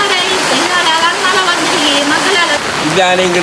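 Heavy rain that has fallen for three days pours down in Palamunai. A loud, constant wash of rain and running water fills the scene while someone talks over it throughout.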